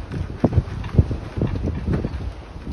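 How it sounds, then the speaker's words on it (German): Wind rushing through the old windmills of Nashtifan, Iran, a steady rumbling gust noise with irregular low knocks and clatters of wooden parts, fairly close and unbroken by talk. "Da klappert es und rumpelt es, wenn der Wind hier durchsaust."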